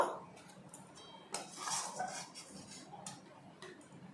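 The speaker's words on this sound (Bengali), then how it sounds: "ওর মধ্যে আমি দুটো বিস্কিট গুঁড়ো করে নেব।" Two biscuits are crushed by hand while milk boils for homemade carrot layer sandesh, giving faint, scattered crunches and crackles in short bursts near the middle and end, with no talking.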